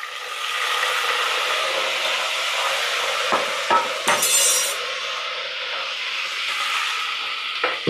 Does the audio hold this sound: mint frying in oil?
yes